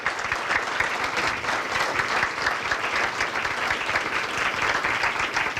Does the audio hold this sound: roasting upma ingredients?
no